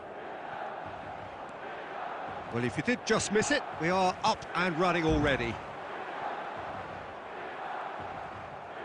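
A packed San Siro crowd in eFootball 25 Mobile keeps up a steady, dense roar throughout, with a commentator talking over it in the middle.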